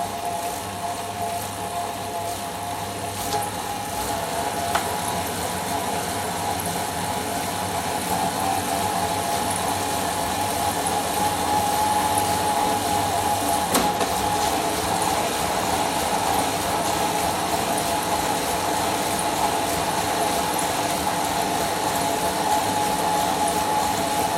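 A homemade pedal-powered generator feeding power to the grid runs steadily for the whole stretch, a constant mechanical hum and whir with a sustained tone, moderately loud and close, with no talking.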